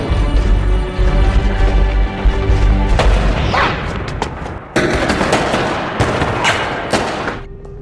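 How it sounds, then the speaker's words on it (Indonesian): Loud gunfire rings out in a film shootout, dense repeated shots and booming blasts filling the whole stretch, with a short drop in the middle before another heavy volley. "adegan baku tembak pun terjadi"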